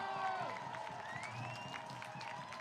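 A baseball crowd at a Portland Pickles game cheering and clapping in a distant, diffuse wash, with faint whistle-like tones and murmured voices.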